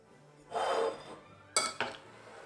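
Strained peas tipped into a bowl of banana salad, giving a broad soft clatter followed by two sharp clinks of a utensil against the dish, close and quiet with no talk.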